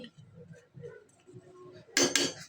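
A metal lid is set onto a cooking pot of drumstick flower curry, making two quick, close metallic clanks right at the end after a stretch of soft, low background sounds.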